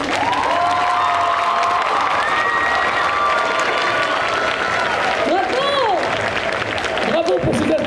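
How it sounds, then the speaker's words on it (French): A crowd applauds at a cosplay parade at Angers Geekfest 2024, with continuous clapping, cheering and shouts, while high voices rise and call out above the steady applause. "Bravo pour ces applaudissements pour la légende de la pomme de terre."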